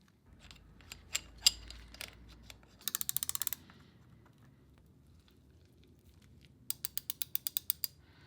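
Motion Pro chain breaker tool riveting a link on a motorcycle chain (KTM 701), with sharp metallic clicks and two rapid ratcheting bursts of about eight clicks each, close and alone with no talk.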